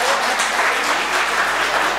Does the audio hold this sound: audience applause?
yes